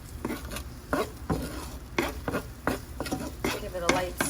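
Chopped garlic sautés in extra virgin olive oil for fresh clam pappardelle, a soft steady sizzle broken by repeated scraping stirs and light pan clatter, close by, with no talk.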